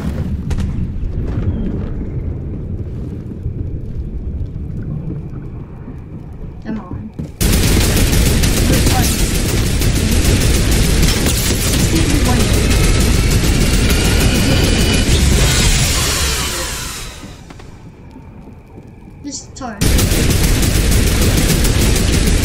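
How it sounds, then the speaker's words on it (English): Dense, loud video-game gunfire that roars almost continuously in sustained bursts, dips briefly, then surges again, with a voice talking faintly underneath. "Oops, shooting"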